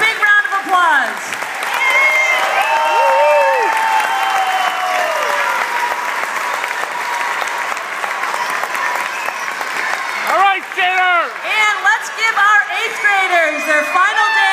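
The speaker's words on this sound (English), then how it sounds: "Let's give our teachers a big round of applause." Audience applause for teachers at a grade-school show's curtain call, loud sustained clapping from a crowd with cheers and whoops, and a voice breaking through near the end.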